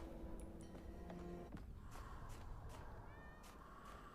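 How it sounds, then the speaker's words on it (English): A cat meows faintly in the video game The Talos Principle, with a few short, thin cries against a quiet ambient background. "Everyone, I hear a cat."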